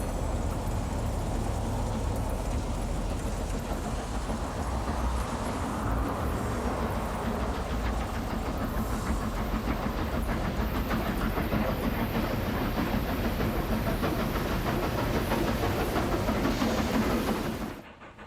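A Southern Pacific Daylight steam-era passenger train rolls in with a continuous low rumble and rattling wheels on track, steady and moderately loud, ending abruptly.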